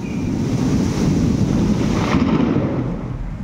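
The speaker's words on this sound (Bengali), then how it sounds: "বেশ ফুরফুরে হাওয়া দেখো" Light outdoor breeze on a mild sunny day, rushing steadily across the microphone as a continuous, fairly loud wind roar with no voices.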